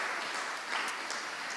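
A short burst of audience applause for the technical team at a school awards ceremony, a steady hiss of many distant hands clapping with no clear start or finish.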